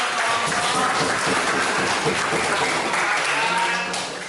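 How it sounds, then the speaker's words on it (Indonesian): Students in a classroom applauding after a group presentation in an Islamic history lesson, a fairly loud, continuous patter of many hands that holds steady and fades slightly at the end, with voices mixed underneath. "Tepuk tangan."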